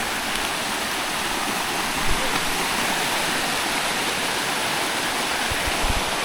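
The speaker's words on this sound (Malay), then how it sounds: "Kita menelusuri sungai." A stream flows steadily along a jungle river during a land navigation race in Taiping, Perak, making a constant, close rushing wash of water with no voices.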